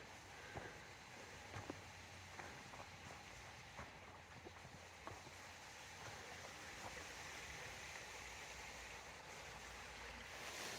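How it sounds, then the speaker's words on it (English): Steady broadband roar of a waterfall near a hiking trail at Pictured Rocks during a thunderstorm, rushing water continuous and fairly close, resembling heavy rain, with scattered faint clicks. "It's not rain you're hearing, it's actually another waterfall."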